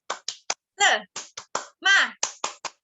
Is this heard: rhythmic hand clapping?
yes